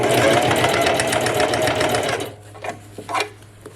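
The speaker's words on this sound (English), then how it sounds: "lower the presser foot, take out that first pin. That way I can begin with a back stitch." Close and loud, a sewing machine runs in a fast continuous whir while stitching the waist seam of a pair of pants, then stops, leaving a low hum and a few soft handling clicks.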